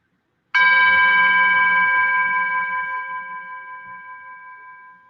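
A single meditation interval bell is struck once and rings out clearly, its bright sustained tone slowly fading and pulsing over several seconds in an otherwise quiet space.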